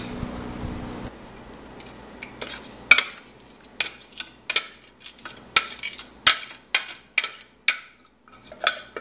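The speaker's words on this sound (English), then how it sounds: "you just want to get all of that nice paste you just made, scrape it down, and then add it to the fish" Spice paste scraped from a bowl or mortar onto fish for a Sri Lankan sour fish curry: after a brief low hum, a series of sharp scraping clicks and taps of utensil on bowl, irregular and close, with no talk.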